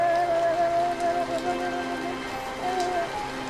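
Steady rain pours down, a dense continuous hiss with a faint tonal hum running underneath throughout.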